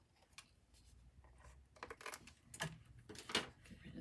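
Paper card being trimmed, with soft, close scraping and snipping sounds arriving in irregular bursts at low volume.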